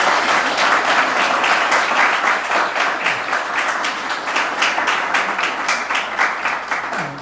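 A church congregation applauding for Jesus during a service, steady dense clapping from many people that holds for several seconds without pause, loud and close.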